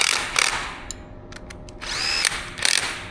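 An impact driver tightens the clutch cover bolts on a Kove 450 Rally motorcycle in a few short, close whirring bursts separated by brief pauses.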